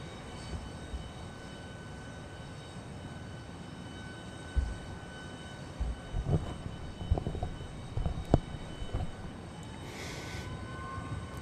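A Southwest airliner departs runway 13 right at Dallas Love Field, its engine rumble faint and distant under steady background noise, with a few brief thumps and clatters nearby.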